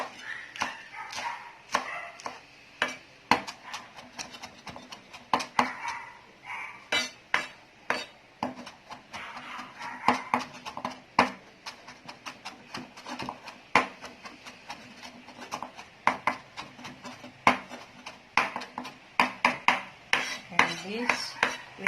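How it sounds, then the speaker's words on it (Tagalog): Knife chopping lettuce on a cutting board in a home kitchen: many quick, sharp, irregular taps in bursts, fairly faint, with a little background clatter and no talk. "we will chop the lettuce"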